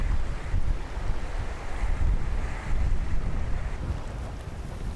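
Strong wind gusts over the sea around Gageodo island, with waves surging onto the shore; a steady, loud roar of wind buffeting the microphone and rushing surf, continuous throughout with no voices.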